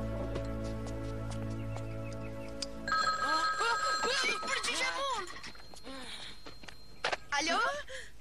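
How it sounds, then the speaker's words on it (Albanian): A telephone rings in an animated adventure film with a steady, sustained ring tone. High, excited character voices then break in and continue talking over lively background sound. "Por do të na telefonoj Davey, val?"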